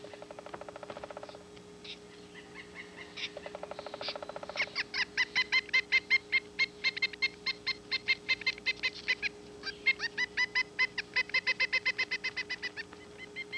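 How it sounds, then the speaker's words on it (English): Pileated woodpecker chicks in a tree nest hole begging loudly, a long run of rapid, evenly spaced nasal squeaks and chatter that quickens and continues without pause, close and clear. "the pileated chicks begged loudly for a taste of termite"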